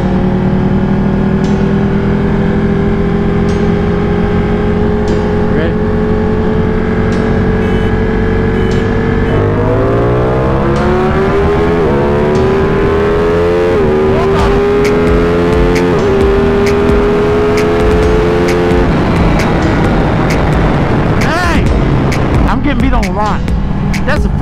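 Racing video game featuring a tuned Kawasaki ZX-10R against Ducati 1299, Ducati 1199 and Yamaha R1 superbikes: a loud, continuous engine whine rising and falling through gear changes, filling the whole stretch without a break.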